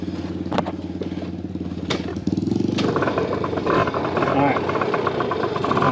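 Dirt bike engine restarted and idling, a steady putter that grows louder and fuller after the restart, close by, with people talking over it.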